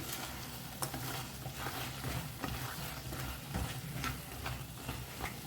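Fried idli pieces being stirred into chilli sauce in a pan: a steady, close sizzle with a continuous scraping and stirring texture and occasional faint clicks of the utensil.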